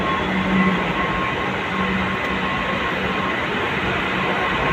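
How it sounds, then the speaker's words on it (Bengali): A Kolkata metro train on the New Garia to Ruby route rumbles steadily close by as it arrives, a loud continuous roar of wheels and motor with a faint tonal hum running through it. "অলরেডি মনে হচ্ছে মেট্রো চলে এসছে অলরেডি"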